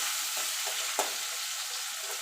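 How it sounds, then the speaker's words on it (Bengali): Prawns fry in hot oil with a steady, even sizzle and one brief sharp spatter about midway; no voices. "এবার মাছটা একটুখানি হালকা করে ভেজে নেব।"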